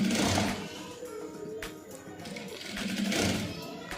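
A sewing machine runs steadily, stitching a shirt collar with a continuous close mechanical whir that dips slightly in the middle and then rises again.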